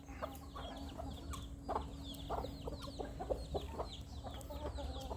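Several Burmese chickens cluck and squawk around a farm pen, overlapping short calls of varied loudness over a steady low background rumble.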